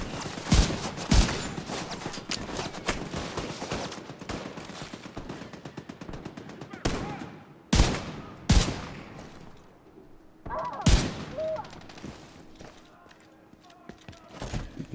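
Rapid bursts of automatic gunfire and machine-gun fusillades in a video game battle, loud volleys separated by brief lulls, with distant shots and faint game effects between.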